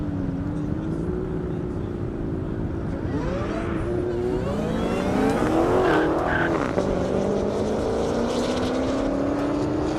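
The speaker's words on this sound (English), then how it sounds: "Ashley Carmody in the McLaren 720S" A McLaren 720S drag races down an airport airstrip, its engine rising in a loud, sustained howl as it shifts through gears, with a commentator talking over the run.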